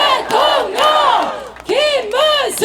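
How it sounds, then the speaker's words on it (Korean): A large crowd at an outdoor political campaign rally in a park in Paju, South Korea, chants and cheers in unison, with loud, rhythmic swelling shouts repeated several times. "박수 한번 해주세요."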